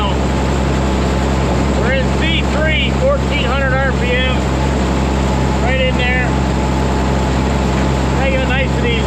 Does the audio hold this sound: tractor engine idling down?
yes